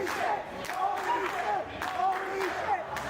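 Wrestling crowd at a live match reacting with loud, sustained cheering and shouts after a superplex onto a pineapple pizza, with a commentator talking over the steady roar.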